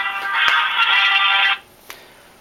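A phone rings during a Star Wars Republic Commando armor-building session, a bright electronic ringtone holding steady for about a second and a half before cutting off, followed by a faint click, with no talking.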